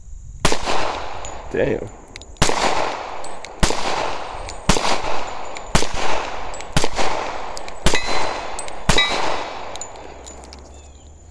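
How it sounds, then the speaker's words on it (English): Rock Island Armory 1911 Tactical pistol fired outdoors: eight loud, sharp gunshots at a steady, unhurried pace, each with a ringing metallic tail, close to the listener, with a brief spoken word near the start. "Now, it's my first time firing a 1911."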